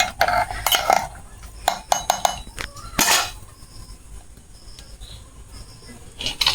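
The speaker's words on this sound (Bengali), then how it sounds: "সব মশলা আমি ভালো করে নাড়িয়ে ছড়িয়ে নেব চালের সাথে" Spices get stirred into rice in a pot, heard as a series of close metallic scrapes and clinks from a spoon against the vessel, with quieter pauses between strokes.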